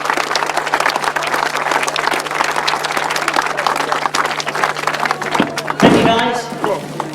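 Crowd applause at an outdoor grasstrack motorcycle meeting's prize presentation, greeting the 500cc solo riders; dense, steady clapping runs throughout with a low constant hum and a louder burst near the end.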